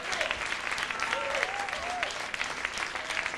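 Concert audience applauding for a rock band, a brief burst of loud, dense clapping with a few whistles and shouts rising above it.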